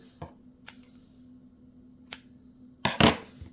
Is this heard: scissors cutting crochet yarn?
yes